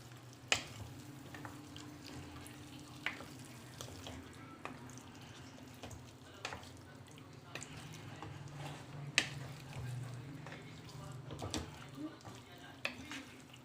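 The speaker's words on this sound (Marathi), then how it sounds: "छान असं मिक्स करून घ्यायचं" Marinated Hyderabadi green chicken is stirred in a pan with soft, faint scraping and gentle sizzling, plus occasional light clinks of the utensil against the pan, low and continuous.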